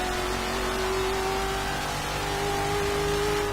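HSV GTSR race car with a supercharged engine in Forza Horizon 3, revving hard and steadily at high load with a sustained whining drone, loud and close, no talk.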